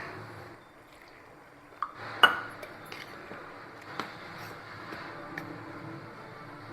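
A spoon stirs sorghum flour batter with salt, cumin, green chilli, curry leaves and onion in a bowl, giving soft scraping and a scattering of sharp metallic clinks against the bowl, fairly close and quiet.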